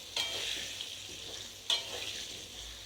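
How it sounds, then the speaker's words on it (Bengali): Potato pieces sizzle steadily in hot oil after salt and turmeric go in, a continuous hiss broken by two sharp stirring scrapes, close and fairly quiet with no talking. "আলুটা আমি লাল করে ভেজে নেব।"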